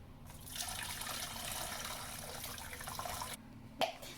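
Boiled roasted barley water being poured through a filter, a steady close trickle and splash of liquid that runs for about three seconds, stops briefly, then ends with a single clink.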